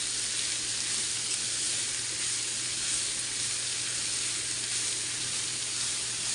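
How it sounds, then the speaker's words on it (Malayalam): Chopped spinach greens fry in a hot pan while being stirred, giving a loud, dense, unbroken sizzle and steamy hiss that carries steadily from start to finish without any talking. "ഈ അരിഞ്ഞ ചീര എടുത്തിട്ട് അങ്ങോട്ട് മനസ്സിലായോ. എന്നിട്ട് ചെറുതായിട്ട് അങ്ങോട്ട് ഇളക്കണം"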